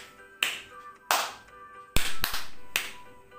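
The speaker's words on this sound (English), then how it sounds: "Yes, mosquito clap." Mosquito clap from a classroom clapping warm-up: five sharp, separate claps spaced unevenly, close and crisp in a quiet room, with two of them falling in quick succession.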